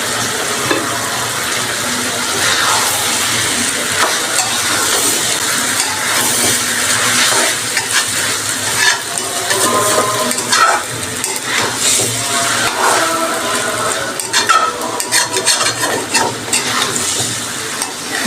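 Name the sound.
minced beef frying with spices in oil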